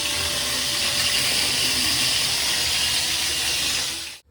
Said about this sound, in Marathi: मी बहुतेक ती कढई सुकायच्या आधीच तेल टाकलं, तर ते तडतडे उडायला लागले